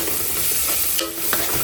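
Onions fry in a pan, giving a constant loud sizzle, while a spoon stirs and scrapes through them with a couple of brief clinks.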